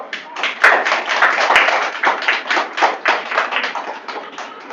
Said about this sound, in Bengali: সবাই একটা করতালি দাও